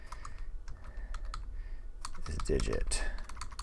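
Fast typing on a computer keyboard during a Python coding session, a steady run of close clicks under a person speaking.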